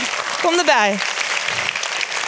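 Crowd applause at a labour-movement political gathering as candidates are named one by one, a steady wash of clapping running throughout while someone speaks briefly over it near the start.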